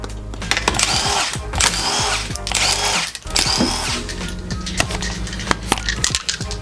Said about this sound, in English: Already broke the lug nut, see, coming off by hand.